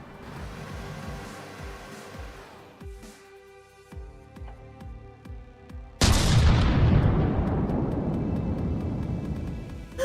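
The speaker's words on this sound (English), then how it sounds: "Who is shelling me? The scuttle gun?" A scuttle gun shelling a boat in a video game: scattered booms and mechanical clatter, then a loud, sustained blast of noise with roaring rumble near the end.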